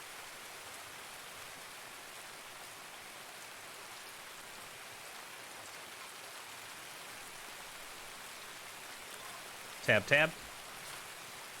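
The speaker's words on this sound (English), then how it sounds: "And now we get the heavy rain." Heavy rain falls in the video game Escape from Tarkov on a shoreline map, a steady hiss of downpour throughout, broken near the end by a brief spoken phrase.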